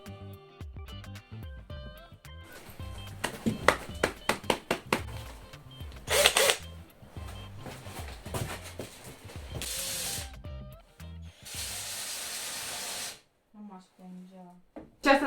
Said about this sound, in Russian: приступаем к очистке поверхности от старой краски с помощью шуруповерта и насадки для